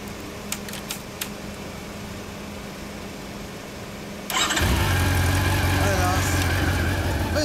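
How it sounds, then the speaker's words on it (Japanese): Faint background chatter and a few clicks, then a 2014 Honda CB400 Super Bol d'Or motorcycle engine abruptly fires up and settles into a loud, steady idle close by. "ボールドール、エンジン音聞かして。"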